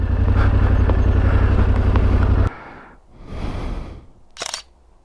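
A Yamaha Tenere 700 motorcycle idles loudly before cutting off, followed by a quiet lull and a brief, sharp camera shutter click taking a selfie near the Lithuanian border.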